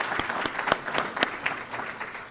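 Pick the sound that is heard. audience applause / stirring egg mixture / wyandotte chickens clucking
audience applause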